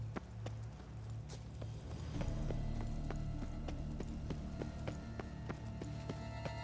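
Horse hooves clip-clop steadily in The Witcher 3: Wild Hunt, Blood and Wine expansion, a regular walking rhythm of distinct knocks over a low ambient game hum, with no talking.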